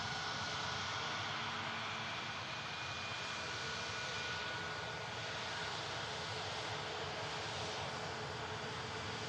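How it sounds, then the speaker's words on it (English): A passenger jet lands on the runway at Manchester Airport, its broad engine roar steady and loud across the whole stretch, heard alone without talking. "either pilot could have done the landing, first officer or captain"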